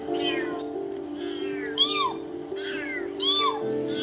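People repeatedly imitate meows to coax a kitten off train tracks: several rising, wavering human mews come in bursts over a steady low hum, some louder and nearer than others.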